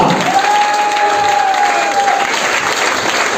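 Loud, steady audience applause at a mentorship event, hands raised and clapping, a thick continuous roar with a sustained whistle tone riding over the first two seconds.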